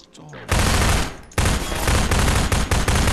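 Gunfire in the Half-Life 2 video game: dense, loud bursts of shots that start after a brief quiet moment, pause, then resume with steady rapid firing and sharp peaks.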